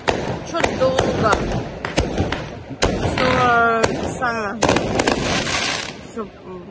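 Rapid booming bursts of fireworks pop and crackle in bursts, with whistling rising streaks, while people talk and shout nearby.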